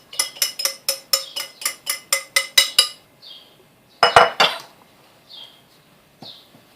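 Flour and other dry pizza dough ingredients being mixed in a bowl, giving a run of about ten quick, evenly spaced clinks, followed by a few scattered scrapes and taps.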